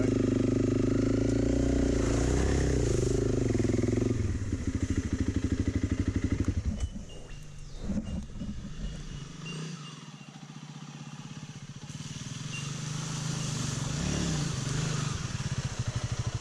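A Honda CRF 300 Rally motorcycle climbs uphill in second gear, its engine running steady and loud close by, with a brief clattery patch partway through before the drone evens out again.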